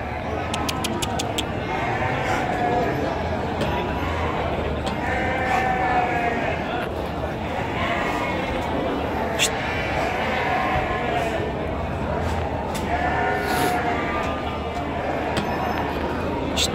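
Sheep at a livestock market in Tanjung Sari, Sumedang, bleating repeatedly over a busy background murmur, with several drawn-out calls at moderate distance and voices talking in the crowd.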